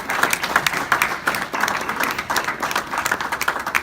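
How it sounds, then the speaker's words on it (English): A class of chaplain trainees gives a round of applause, a dense continuous patter of many hands clapping indoors, steady and fairly loud with no talk over it. "I want to give the class a round of applause."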